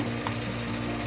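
Tomato paste and masala frying in oil for a green bean pulao make a dense, continuous close sizzle that stays constant through the short stretch, with no one speaking.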